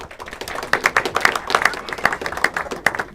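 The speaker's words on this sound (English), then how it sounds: "Round of applause." Small audience clapping at the close of a comedy act during a TV pilot taping, with sharp individual claps in an uneven rhythm, near and fairly loud, no voices over it.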